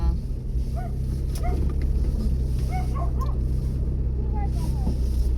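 A dog barks and whimpers in short yips in a rural yard, over a steady low engine hum, with people talking nearby.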